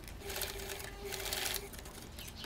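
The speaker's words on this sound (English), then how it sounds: "and I sew the sides" Sewing machine stitching the side seams of cigarette-style dress trousers, running in a steady fast whirring drone that stays close and fairly quiet without pausing or any talk.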